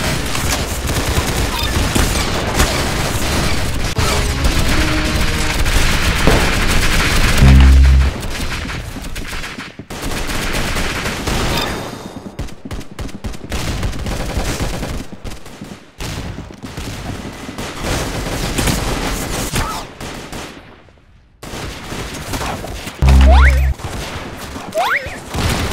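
Rapid bursts of video game gunfire fill the whole stretch, dense automatic fire with heavy booming impacts and crashes, loud and close, with brief lulls between volleys and occasional voices underneath.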